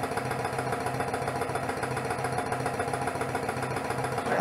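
A Lanaform suction skin massager runs at maximum speed, making a steady motorized drone with a fast, regular pulsing as it sucks at the skin in bursts. The sound is close and even, with no voices.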